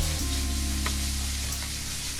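Chicken pieces sizzle loudly in a hot frying pan as it is shaken, a close, steady crackle with faint scraping of the pan.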